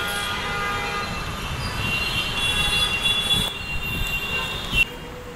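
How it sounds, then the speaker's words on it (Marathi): Riding a Pune Metro train in Pimpri Chinchwad brings a steady rolling rumble from the carriage, with high whining tones from the motors and wheels and a few sharp squeals and clanks near the end. "आज तुम्हाला पुण्यातल्या मेट्रोची सफर करून दाखवते मी आज."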